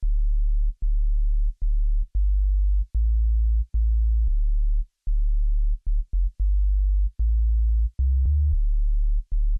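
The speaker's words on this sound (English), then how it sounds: "this is where we introduce the bass, and here's how it sounds" A deep, pure sine bass plays alone in an Amapiano beat, a line of sustained low notes with short gaps, shifting pitch now and then as it follows the chords.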